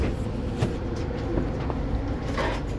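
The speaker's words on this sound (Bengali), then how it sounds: "দেখো ডবল ডেকার, এটা হচ্ছে ট্রেন।" Inside an AC double-decker train running from Chennai to Vellore, a continuous low rumble fills the carriage at a steady level, with no voices.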